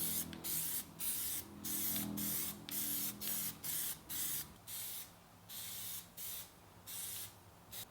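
Sublime Green Plasti Dip sprays onto a Mustang inside a garage in about a dozen short, hissing bursts, close and fairly regular, with brief pauses between them.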